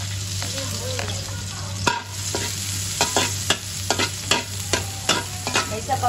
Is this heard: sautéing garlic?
yes